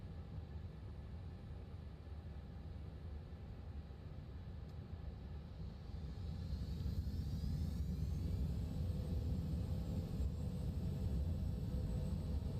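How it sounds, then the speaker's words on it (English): Airbus A340-300 taking off in Microsoft Flight Simulator: a steady low engine rumble swells noticeably louder partway through as thrust builds, with a faint rising whine on top, no voices. "Ready for takeoff. Let's see how this one goes, shall we?"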